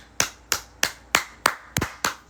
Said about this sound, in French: Une belle main d'applaudissement pour toi